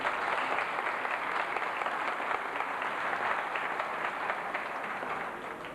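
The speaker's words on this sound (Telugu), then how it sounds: "వినరా చప్పట్లు" Sustained audience applause at a film awards function, a dense, even wash of many hands clapping throughout, moderately distant and steady with no talk over it.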